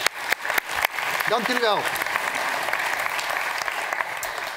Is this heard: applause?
yes